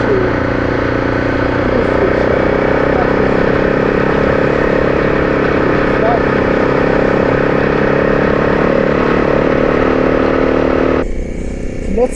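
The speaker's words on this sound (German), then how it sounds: "Ich fahre Enduro. Auf geht's." Enduro motorcycle riding on the Peer Gynt road in Norway, a loud, steady engine drone close up for most of the stretch, easing off near the end.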